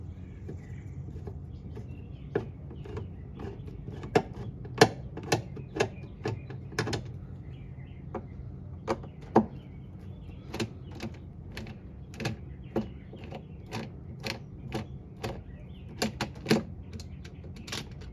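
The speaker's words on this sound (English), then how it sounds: "We are going to loosen the two green screws." Screws are loosened on the shift actuator of a Maytag top-load washer, producing many small sharp ratcheting ticks in irregular bursts, close but quiet over a low steady background hum, with no talking.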